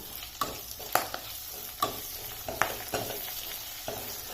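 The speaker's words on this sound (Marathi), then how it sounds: "आता कढीपत्ता कढीपत्ता पण थोडासा क्रिस्पी करून घ्यायचा" Curry leaves crisping in hot oil for kadhi, a soft background sizzle broken by sharp spatter pops and scraping strokes every second or so, no voices.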